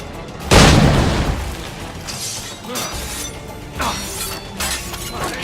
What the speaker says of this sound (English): Fire at the powder keg!